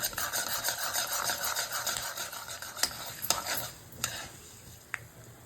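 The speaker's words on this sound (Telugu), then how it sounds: "కొద్దిగా జీలకర్ర సిమ్లో పెట్టి వేయించుకోవాలి" Cumin seeds roast on low heat in a pan with a steady soft sizzle and crackle. A few sharp clinks of a utensil against the pan sound near the end.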